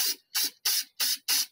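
Aerosol spray paint applied to a Bajaj RE for a minor rust repair, five short even hissing bursts in a steady rhythm with brief silent gaps, close and clear.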